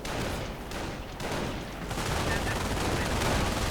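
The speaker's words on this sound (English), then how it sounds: "British troops going down to accurate Volksgrenadier fire" Bursts of rifle and machine-gun fire from Volksgrenadier infantry in a World War II strategy video game, dense and continuous crackling battle noise with a commentator speaking over it.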